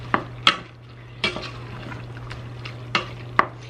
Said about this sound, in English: Stir this all up.